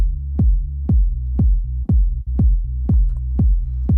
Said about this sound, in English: The kick drum is literally 4 on the floor.